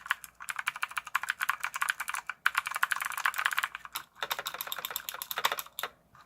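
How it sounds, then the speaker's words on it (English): Rapid, crisp clicking from a Redragon K551 Vera clicky mechanical keyboard being typed on up close, a loud, dense patter of keystrokes with a couple of short pauses. "You can hear real close up how loud this is."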